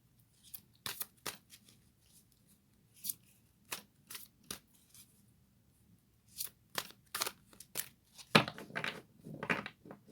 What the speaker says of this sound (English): I've also got the Fairy Tarot here, so let's get a couple of cards there.